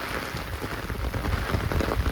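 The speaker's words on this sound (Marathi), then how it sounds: "पाऊस बघा किती जोरात आला आहे" Heavy monsoon rain pours down steadily over a village farm, a dense, continuous hiss of drops hitting the ground and surfaces, close and unbroken.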